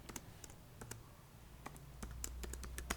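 A computer keyboard clatters with sparse, irregular keystrokes as C code is typed, the clicks fairly faint and close over a low background hum, no voice present.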